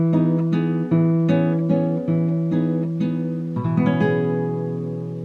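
An acoustic guitar plays the opening verse pattern of a song, plucked notes alternating with bright strums in a steady rhythm, close and clear with no voice.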